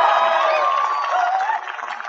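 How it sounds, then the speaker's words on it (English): A rally crowd at a high school applauds and cheers for Joe Biden, a dense continuous wash of clapping and voices that tapers slightly toward the end. "Joe, a big round of applause."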